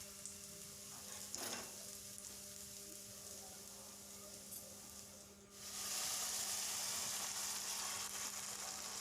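Tomatoes fry in hot oil in a pan, giving a steady soft sizzle with a few stirring scrapes, then a louder, brighter hiss that holds to the end, with no talking.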